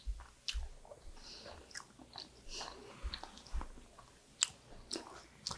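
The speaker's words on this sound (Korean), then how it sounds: "요거를 유자총 소스에다가 이렇게 찍어 먹으면 정말 맛있어요." Someone bites and chews a soft mugwort and tofu pancake dipped in yuja sauce, giving quiet, close, moist bites and soft crunches spaced unevenly through a near-silent room.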